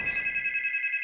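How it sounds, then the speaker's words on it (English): A telephone bell rings steadily and close by in a quiet indoor setting, a single sustained electronic trill with a rapid pulsing rhythm and nothing else heard. "The phone made her jump."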